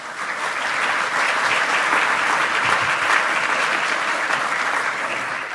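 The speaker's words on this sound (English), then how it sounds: "warm round of applause" Audience at an offshore wind industry conference giving sustained, dense applause, steady and fairly loud throughout, with no speech over it.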